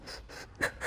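Short, broken breaths during a Pilates exercise, several quick gasping inhalations and exhalations in uneven bursts, close and fairly quiet.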